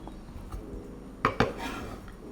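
A knife chopping shallots on a board, heard as two crisp, close knocks in quick succession against a quiet kitchen background.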